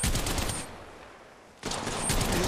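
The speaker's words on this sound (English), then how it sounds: "Opening fire. I downed the hostile." Rapid automatic weapon fire rattles out in Apex Legends Mobile, a dense burst that drops away into a short lull before another loud volley resumes, with no voices over it.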